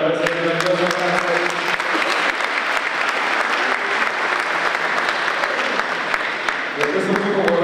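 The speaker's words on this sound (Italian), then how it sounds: "soprattutto ancora un applauso a parte vostra" Sustained audience applause honoring bronze medal athletes at an Italian awards ceremony, a dense, steady clapping crowd throughout, with someone speaking over it at the start and end.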